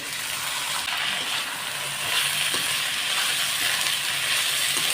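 Green peas tipped into sautéed onions in a pan, giving a broad, steady sizzling hiss with faint scraping and clinking.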